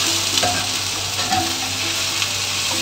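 Vegetables frying in a pan for a simple lunch, a loud, dense continuous sizzle up close with brief stirring scrapes and no voices.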